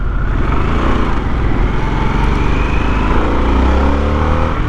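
A 2022 Harley-Davidson Sportster S engine pulls hard under acceleration, a loud, steady close-up roar with deep low rumble and wind noise throughout.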